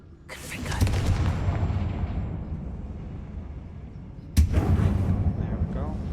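Confringo fire spell in the Hogwarts Legacy video game bursts with a loud rumbling blast that fades slowly, then a second sharp impact strikes near the end, followed by more heavy rumbling.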